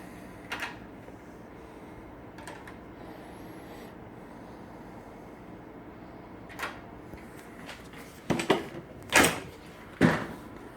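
Hotel room door lock being worked, with a few sharp mechanical clicks and clacks near the end, close and fairly loud, after quieter scattered knocks over a low background hum.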